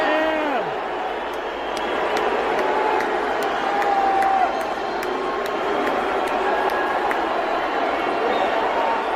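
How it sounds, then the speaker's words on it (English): A concert crowd in San Francisco booing Tesla CEO Elon Musk as he walks on stage, a loud sustained roar of many voices with shouts and whoops mixed in, continuous throughout. "Upon immediately being brought on stage, the crowd just erupts in boos."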